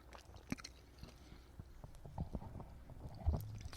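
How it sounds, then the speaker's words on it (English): A person chews food near a microphone, producing faint, irregular wet crunches and smacks with soft pops scattered over a quiet background and no talk. "I'm sorry to anybody out there if you hear me chewing"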